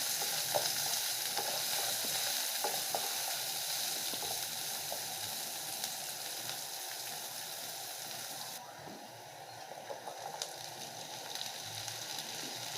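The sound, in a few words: chopped onion frying and being stirred in a pan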